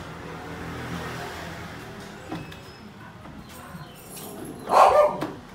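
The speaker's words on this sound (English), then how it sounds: "This is Chester the dog." A dog called Chester gives one loud, close bark near the end after a few fainter yips, at a rural Colombian coffee-region stop with faint background noise.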